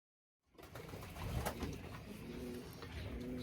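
A grizzle hen racing pigeon coos softly and repeatedly, close by, with a low rolling murmur over light background noise.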